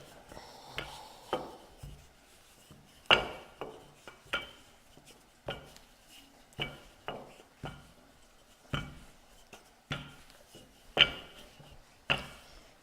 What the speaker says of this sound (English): And then I use the rolling pin to get them a little bit bigger.